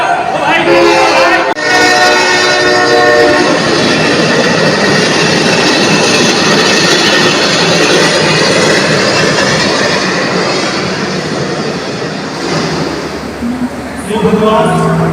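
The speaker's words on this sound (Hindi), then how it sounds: "ट्रेन आने वाली है।" A train approaches and passes a railway crossing with a loud, sustained roar of wheels and rail clatter, along with a horn at the start and end, while people shout over it.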